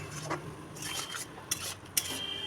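A spoon scrapes and clinks against a pan while potol curry with garam masala is stirred, a few soft rubbing strokes and two sharp metallic taps, quiet and close.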